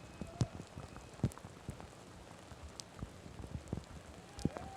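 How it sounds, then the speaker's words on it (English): Rain falls during a night-time men's college soccer match, a faint wash of patter broken by sporadic sharper drop impacts and soft thuds at irregular intervals. "We just get this massive deluge of rain that has really not let up since the opening kickoff."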